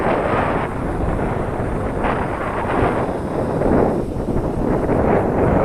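Strong, steady gusts of wind roar and buffet the microphone outdoors while a small Eachine Mini Mustang P51D model warbird hovers in roughly 20 mph wind, loud and unbroken throughout.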